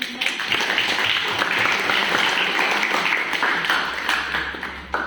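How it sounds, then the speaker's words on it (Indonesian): Classroom applause from students in a health promotion course session, a steady wash of many hands clapping at moderate volume, continuing evenly for several seconds with a low hum underneath near the end. "Tepuk tangan."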